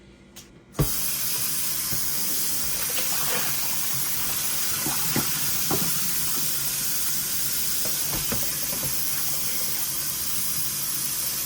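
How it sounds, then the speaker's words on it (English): Tap water runs steadily into a container holding raw chicken being rinsed for baking, a continuous hissing pour close by with occasional splashes and clinks, after a brief quiet start. "I'm refilling it with some clean water"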